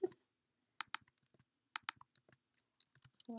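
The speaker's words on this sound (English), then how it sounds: "I'm going to type in up to chapter 7" Keys tapped on a computer keyboard in short bursts of sharp clicks, a cluster near the start and another about a second later, then a few scattered taps, close and fairly quiet with no talking.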